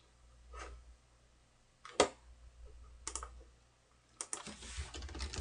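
A few sharp clicks on a computer mouse and keyboard while setting up a repository, scattered and quiet with a denser run of taps near the end, no talking.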